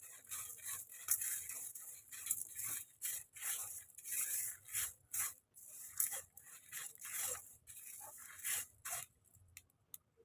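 Whole spices are dry roasted in a pan over a low to medium flame for about a minute and a half, producing a steady run of close, soft scraping and rasping stir strokes with brief gaps.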